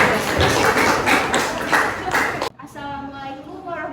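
A classroom group claps together for about two and a half seconds, a close burst of mixed hand claps that stops sharply before a voice begins speaking.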